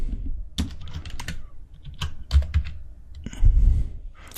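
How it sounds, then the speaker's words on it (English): Fingers type on a computer keyboard, producing irregular bursts of crisp key clicks and thocks at close range with short pauses between keystrokes and no talking. "So let's type that in."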